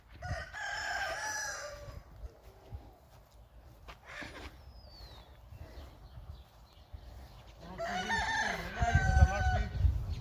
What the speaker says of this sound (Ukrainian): Чужий півень ганяється за нашою куркою